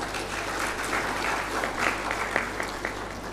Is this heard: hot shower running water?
no